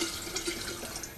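Leftover wine being poured into a homemade vinegar container, a faint steady liquid trickle and splash running continuously for a moment.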